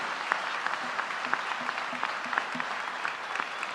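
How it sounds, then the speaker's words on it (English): A crowd at a high school athletes' signing ceremony keeps up brisk, dense applause with a few louder nearby claps popping out, and faint voices murmur underneath. "One more round of applause for Eston, Ella,"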